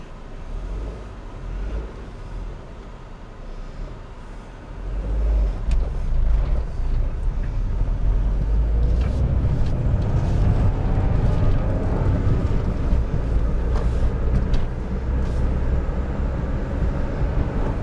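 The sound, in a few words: Honda Insight car driving into town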